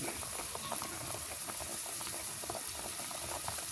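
Water boils vigorously in a cooking pot for fish, with a dense continuous bubbling and popping up close, steady throughout with no talk.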